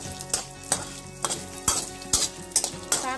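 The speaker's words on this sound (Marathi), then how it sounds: "छान असं गोल्डन कलर येईपर्यंत तळून घ्यायचं खोबरं" Grated coconut fries in oil in a pan until golden, under a steady sizzle broken by about ten sharp, irregular spatula scrapes and stirring strokes, close and fairly loud, with no voices.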